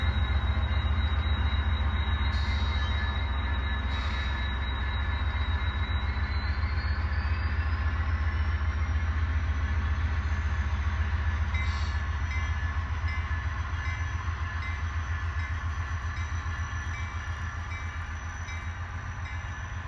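An HO scale model Metrolink commuter train pulls away eastbound on a BNSF-themed layout, a steady low rumble and whir running throughout with a high tone that slides upward partway and a few faint clicks, fading slightly near the end.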